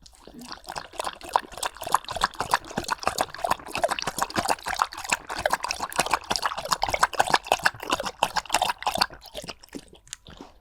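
Rapid, rhythmic lapping and slurping of a dog drinking water, wet and close, continuing steadily for several seconds.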